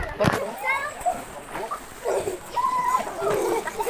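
Water splashes and pours in irregular bursts as someone bathes, with splashy sounds recurring over about four seconds under talking voices.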